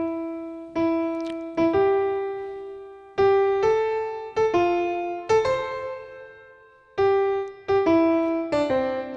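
Solo piano plays a Christmas melody in strict, even time, a series of clear struck chords and notes with ringing decay and short pauses between phrases, close and alone.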